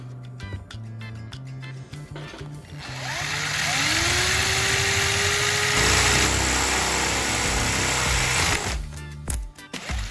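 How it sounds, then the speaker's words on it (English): A power drill whines up and runs steadily for several seconds drilling a hole in the bottom of a metal can, pitch rising as it spins, with handling clicks and taps before and after. "I will drill a hole at the bottom of the can"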